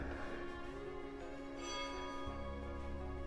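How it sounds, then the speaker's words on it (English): Church bells ring with a sustained, overlapping metallic drone, tones lingering and blending together at moderate volume with no voices. "It always happens to me, doesn't it, the church bells?"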